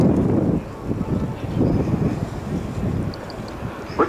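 Engine drone of a Pitts aerobatic biplane, a light aircraft of about 1,500 lb, flying its display at the RAF Cosford airshow, a steady rumbling roar that swells and fades gently with wind noise and no talk.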